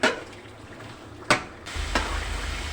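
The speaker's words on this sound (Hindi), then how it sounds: "चिकन और टमाटर को हम अच्छी तरह से भून लेंगे।" Chicken and tomato sautéing in a karahi for Peshawari Charsi karahi, with a soft steady sizzle and a few short stirring scrapes against the pan, close and fairly quiet.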